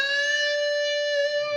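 Sustained electric guitar lead from a solo, a single held, bent note ringing with rich harmonics and effects, steady and loud for the whole stretch with no talking.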